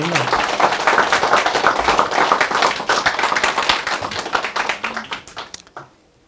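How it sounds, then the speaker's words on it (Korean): Hearty applause from the audience at a Gimcheon colloquium, a dense spread of close hand claps lasting several seconds before thinning out and stopping abruptly, with no talking over it. "박수 한번 보내주세요."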